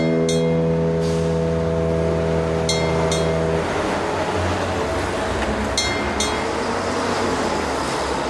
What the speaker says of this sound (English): I used the traffic from Westgate Bridge and sounds to introduce this post